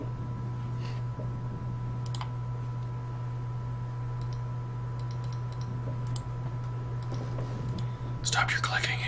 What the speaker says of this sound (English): Stop your clicking, Andrew.